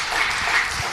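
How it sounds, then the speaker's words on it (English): Crowd applause at a college panel event, a steady dense wash of many hands clapping that fills the whole moment without a break. "A round of applause, please."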